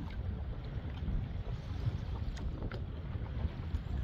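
Lake waves slap against a small Pelican Bass Raider 10E fishing boat on Lewisville Lake in high wind, a close, busy wash of water with wind buffeting the microphone and irregular splashes, no voices.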